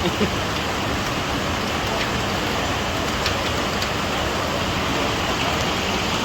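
Steady rain patters down continuously in a dense, even hiss with occasional louder drops, with no pause throughout.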